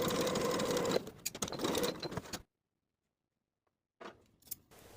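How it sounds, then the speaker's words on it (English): Sewing machine stitching darts on high-waisted A-line shorts, a steady close mechanical whir that slows into separate clicks before cutting out, then a few short bursts of needle chatter after a silent pause. "Sew the darts from the top to the point, leaving thread tails at the point so you can tie them in knots."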